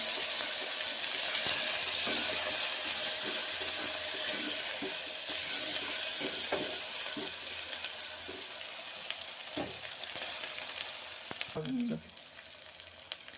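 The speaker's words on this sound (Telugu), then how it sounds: "అల్లం వెల్లుల్లి పేస్ట్ వేసిన తర్వాత కొంచెం బాగా వేగనియాలండి కర్రీని" Mutton paya curry frying with ginger garlic paste in Telangana style, giving a continuous loud sizzle with occasional stirring clicks and scrapes and a brief splash of water near the end.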